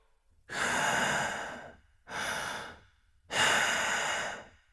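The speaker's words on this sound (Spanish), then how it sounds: "la respiración lenta y uniforme del cartero dormido" Three long, slow breaths drawn in and let out close by, with steady pauses between them, soft and even like someone deeply asleep.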